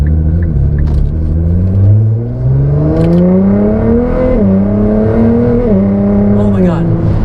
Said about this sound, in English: All right, I'm gonna get on it here. Here we go.